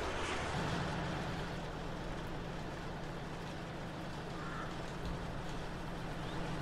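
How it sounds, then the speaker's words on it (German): A new truck drives along in Farming Simulator 22, its steady low engine drone running continuously and evenly at moderate level with no talk over it. "So, dann werden wir mal unseren neuen LKW ausprobieren."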